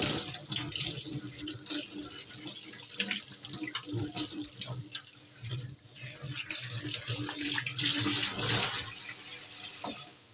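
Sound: water pouring while washing hands with soap

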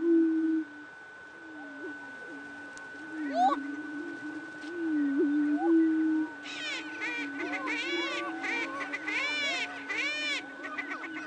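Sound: male prairie chickens making hoop calls

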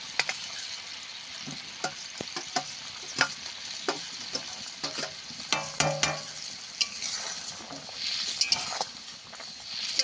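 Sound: raw mango chutney with fried fish roe boiling

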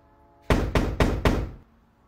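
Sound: knocking at a door

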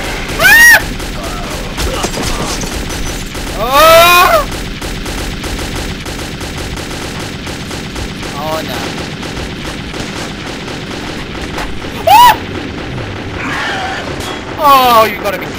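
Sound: gunfire in the video game Metro 2033

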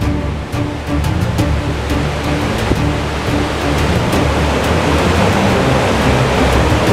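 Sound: river rapids rushing water

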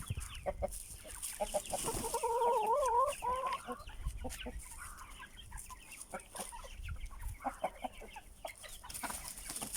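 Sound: chickens clucking in coop

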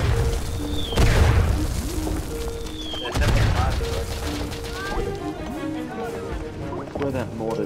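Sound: mortar shell explosion and gunfire in video game Verdun

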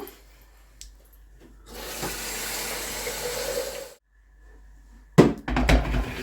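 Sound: water running from tap

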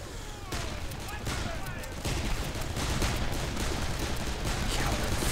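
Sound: sniper gunfire in the video game Darkest of Days

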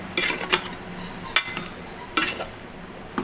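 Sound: stirring fish curry with chili powder using a ladle

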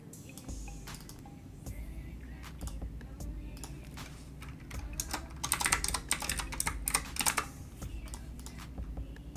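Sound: typing on a computer keyboard

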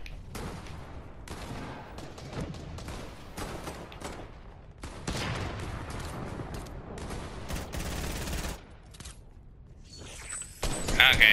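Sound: gunfire in the video game Fortnite

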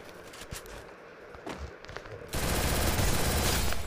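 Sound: gunfire in video game Free Fire Max

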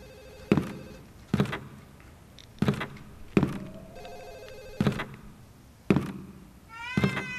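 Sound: cat meowing in horror video game Ju-On

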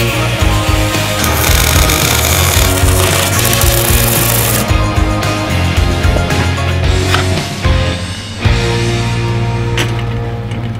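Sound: grinding down a bicycle bottom bracket axle

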